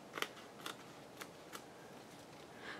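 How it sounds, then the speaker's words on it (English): Scissors cut a thin strip off the side of a paper envelope, giving four or five crisp snips in an uneven rhythm, close and fairly quiet, with no talking. "then I just cut a really thin strip off the side of the envelope so that it has a pocket that opens on the side"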